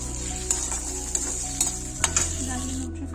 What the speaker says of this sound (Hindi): न्यूट्री फ्राई हो गया है